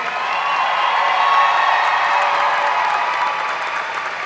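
Warm applause from a conference audience during a toast to attendees, a dense, loud and even wash of clapping from a large room with faint cheering mixed in, no talking over it.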